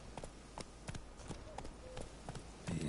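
Horse hooves clip-clop in a steady run through The Witcher video game, a rhythmic series of hoof strikes at moderate distance over a continuous game-world background.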